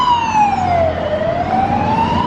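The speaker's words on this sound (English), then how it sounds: "Oh dear, siren." A loud emergency vehicle siren wails close by on a Melbourne street, its pitch sweeping steadily down and then back up, with no other voices over it.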